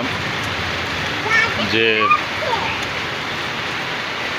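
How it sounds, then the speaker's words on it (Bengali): First rain of the year falls outdoors as a steady, even hiss throughout, with a voice speaking briefly in the middle. "বছরের প্রথম বৃষ্টি শুরু হলো"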